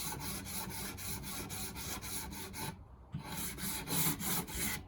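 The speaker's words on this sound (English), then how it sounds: "The veneer is an actual really thin strip of wood, so it sands really easily." Sandpaper, 80 or 100 grit, rubs back and forth across the thin wood veneer of a mid-century modern nightstand in a steady, rhythmic rasping, close and continuous, with a brief pause midway.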